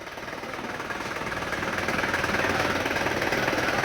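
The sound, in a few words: Isuzu Crosswind engine running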